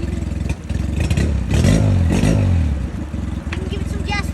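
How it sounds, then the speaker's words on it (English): A newly bought boat's engine is revved in neutral without gear, throttle blips rising and falling in a close, loud motor drone while someone talks over it. "can give it some gas without putting it in gear"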